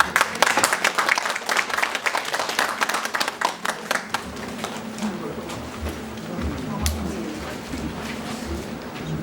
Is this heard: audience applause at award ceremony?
yes